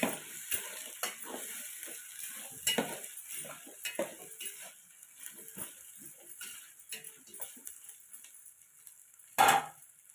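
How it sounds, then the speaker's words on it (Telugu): Potato and vegetable pieces stirred in a pan for veg pulao, with a run of scraping, clinking spatula strokes against the metal, soft sizzling underneath, and one louder clatter near the end. "ఆలు ముక్కలు ఆలుగడ్డ ముక్కలు ఒకసారి ఇవన్నీ బాగా కలుపుకోవాలి"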